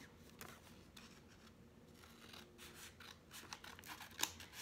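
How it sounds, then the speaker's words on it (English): Scissors snip along the fold of a paper envelope to cut it in half, a quiet series of crisp, irregular cuts that grow a little sharper and quicker toward the end. "Now take your scissors and we're going to cut on the fold."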